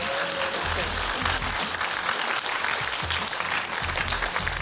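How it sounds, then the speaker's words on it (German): Sustained audience applause for a jury at a national children's reading competition final in Germany, a dense wash of many hands clapping steadily and loudly for the whole stretch, with a faint voice briefly underneath at the start. "Auch nochmal einen großen Applaus für unsere Jury."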